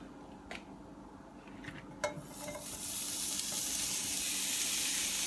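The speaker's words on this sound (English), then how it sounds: "I'm gonna go ahead and heat up the Polish sausage" Pre-cooked Polish sausage drops into a heated pan with a few clinks and a quick stir, then a steady, close sizzle builds and holds; nobody speaks.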